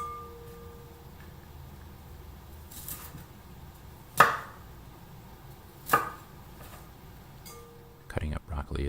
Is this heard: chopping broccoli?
yes